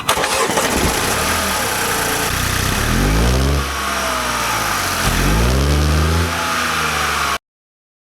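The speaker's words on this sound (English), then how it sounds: "now we'll have a listen to the startup sound" A Mini Cooper engine cranks and fires up, then settles into a steady idle with a couple of revs, loud and close under the open hood, cutting off abruptly near the end.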